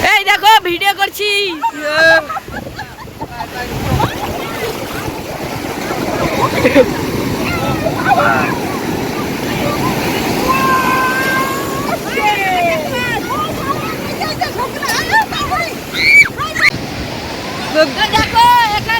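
Sea waves at Puri beach roll in with a continuous roaring surf, close and loud, while people talk loudly over the water the whole time.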